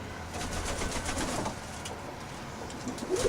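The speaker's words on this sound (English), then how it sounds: "These are my birds. There they are." Pigeons in a colony breeding loft, with soft cooing and bird calls over a steady, fairly busy background of movement and flutter; no talk.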